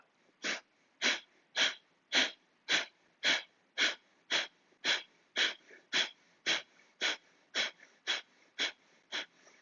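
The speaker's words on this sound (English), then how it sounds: "start to exhale with short bursts using your diaphragm on the exhale" About eighteen short, forceful nasal exhales in pranayama breathing, evenly spaced at roughly two per second, close and clear against a quiet background.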